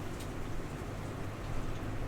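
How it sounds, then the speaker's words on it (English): Heavy rain pouring outside a house: a dense, steady hiss of falling water, continuous and fairly loud, with no voices. "It's pouring rain."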